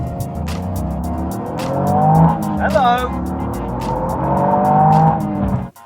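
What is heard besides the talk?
Toyota GR Yaris turbo three-cylinder engine revving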